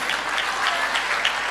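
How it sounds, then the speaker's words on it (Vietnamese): Applause from a temple audience for visiting children, a brief burst of scattered hand clapping at moderate level, heard on its own. "chúng ta cho một tràng pháo tay khen các cháu coi"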